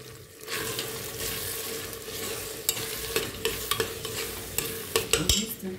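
A couscous sauce of pepper paste and oil stirred in a pot, with a continuous sizzle and frying hiss, repeated scraping strokes of a ladle, and sharper clanks toward the end.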